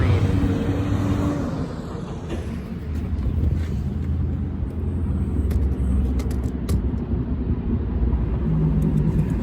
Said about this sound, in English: all day long and all night long, trucks and heavy equipment go up and down the road